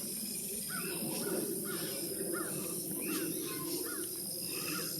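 Repeated bird calls at a bird sanctuary, blackbirds and buzzards among them, ringing out at a steady rhythm over a constant hum of insects and a low background rumble, with the calls carrying moderately from a short distance.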